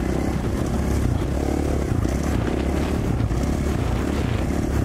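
A 2017 KTM 450 XC-F four-stroke dirt bike rides a tight trail toward switchbacks, its engine droning loud and constant with gritty terrain and wind noise filling the background.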